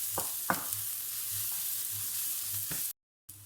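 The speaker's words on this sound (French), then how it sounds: "Maintenant je vais ajouter mon ail. Et je mélange le tout." Garlic added to fried onions in a pan sizzles steadily and close up, with a few spatula scrapes and knocks as it is stirred, before a brief dropout of silence near the end.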